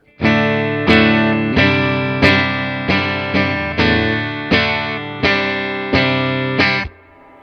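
A distorted electric guitar strums chords through a Fender Twin Reverb Tone Master amplifier, about ten sharp, evenly spaced hits, each ringing briefly before the next, then cut off.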